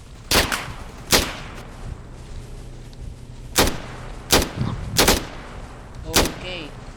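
Gunfire during a tactical exercise: about seven sharp, loud shots fired one at a time at irregular intervals, each a sudden crack with a short echoing tail, over a low background hum.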